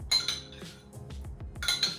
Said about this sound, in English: Mix the dressing.